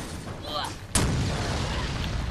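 A single booming grenade blast from Resident Evil Resistance erupts about a second in, sudden and loud, then a rumbling wash of noise lingers after it, preceded by brief speech.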